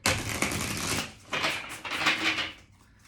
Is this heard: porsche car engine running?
no